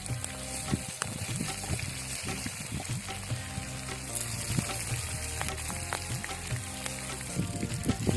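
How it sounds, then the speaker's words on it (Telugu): Spices and masala frying hard in a pan, with continuous loud sizzling and crackling throughout. Scattered scraping and stirring knocks of a utensil against the pan sit over the sizzle. No voices. "ఇవి బాగా రోస్ట్ చేసుకుంటే మనకి మసాలా బాగా వస్తుంది."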